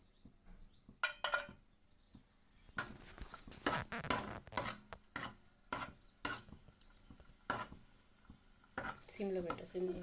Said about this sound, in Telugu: ఇప్పుడు కొంచెం నెయ్యి వేసుకుని ఒక త్రీ స్పూన్స్ వరకు డ్రై ఫ్రూట్స్ వేయించుకోవాలి